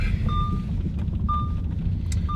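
An Audi A6 C6 Quattro's warning tone beeps three times at an even, slow interval, a clean single-pitched chime over a low rumbling cabin drone.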